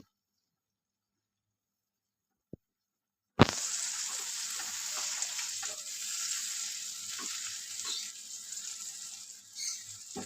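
Spice paste for a boal fish curry sizzles and spits in hot oil. It starts suddenly after near silence and holds steady with occasional scraping stirs, close and fairly loud, and no one speaks.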